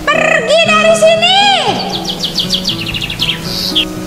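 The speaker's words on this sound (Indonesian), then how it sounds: "Hai, obrolan kalian menggangguku. Dasar burung-burung cerewet, pergi dari sini." Birds chirp and chatter in a forest, with bright rising calls and quick repeated tweets that are loud and close, over a low tonal background.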